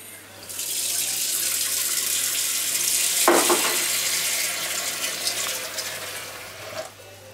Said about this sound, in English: I'm just going to put some water in this.